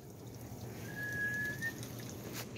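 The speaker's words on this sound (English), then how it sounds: "You're whistling because you see her?" A single faint whistle, steady and short, is heard outdoors over a quiet background wash of water-like noise, with no one talking.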